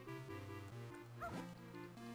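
A dog barking in the Zelda: Minish Cap video game, a few short yips over looping chiptune background music.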